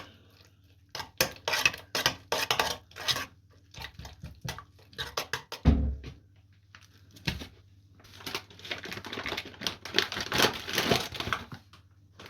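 A spoon scrapes and clatters around a bowl of salted mixture in irregular bursts, close up, with short pauses between rounds of stirring.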